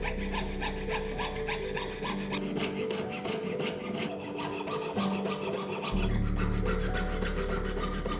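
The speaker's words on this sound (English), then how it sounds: "These are cut from a thick sheet silver so that I can customize the dimensions." A jeweler's saw cuts through thick sheet silver for a ring shank, giving a close, continuous rasping back-and-forth stroke that keeps an even rhythm and gets slightly heavier toward the end.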